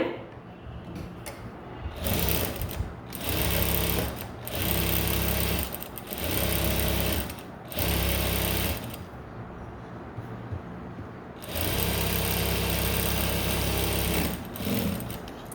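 A sewing machine stitches the back neck of a blouse in several bursts of steady, fast whirring and clatter, each lasting one to three seconds, with short pauses between and a longer run near the end.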